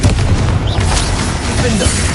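Confringo blasting spell explosion in the Hogwarts Legacy video game, a loud sustained booming rumble filling the whole moment, with a voice faintly audible under it.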